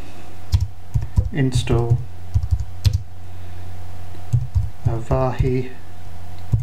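Keys clack in short bursts on a computer keyboard as a command is typed into a Linux terminal, under a steady low hum, while someone talks over much of it.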